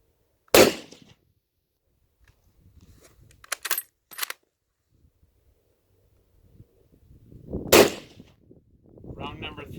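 Two sharp, loud rifle shots from a Mauser or Arisaka ring out on an outdoor shooting range, about seven seconds apart, with a short decaying echo after each. Quieter clicks and handling noise fall in between.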